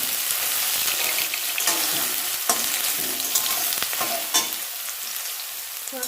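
Soybean chunks fry in hot oil with a steady, close sizzle, broken by sharp pops and spatters throughout.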